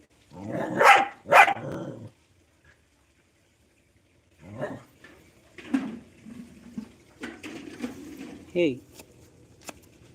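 A dog barks twice in quick, loud bursts close by, then falls quiet while people talk and move around nearby.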